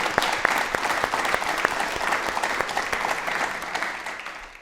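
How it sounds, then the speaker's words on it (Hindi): A studio audience at a televised yoga program applauds vigorously, with dense, sustained clapping that stays loud before easing slightly at the end. "एक बार वापस से तालियां जोरदार हो जाएं।"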